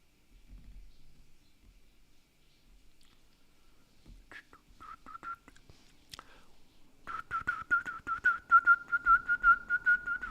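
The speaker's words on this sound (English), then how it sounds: "I'm really good at whistling, by the way." A person whistling a quiet, thin tune that starts hesitantly, then settles into a louder run of repeated short warbling notes near the end.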